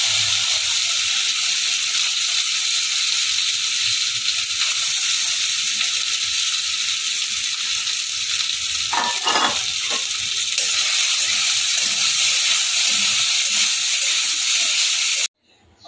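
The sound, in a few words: soya chunks frying in hot oil in a wok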